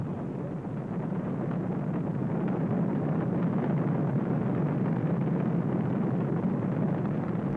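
Space Shuttle Challenger's liquid-fueled main engines igniting in sequence and building to full thrust at launch, a loud, steady, deep roar that swells at the start and then holds without break, with wind buffeting the microphone.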